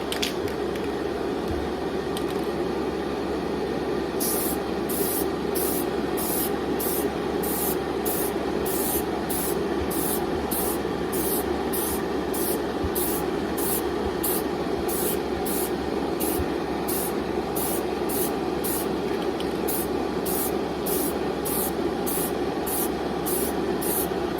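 Spray can of Duplicolor 1K gloss clear laying down a coat, a steady hissing spray heard up close in short repeated bursts over a constant background hum.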